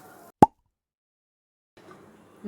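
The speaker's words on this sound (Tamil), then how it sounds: "சேர்த்துட்டு மூடி போட்டுடலாம்" A single sharp knock of a lid set onto a pot of cluster beans cooking on medium flame, close and distinct, surrounded by near silence with faint kitchen noise afterward.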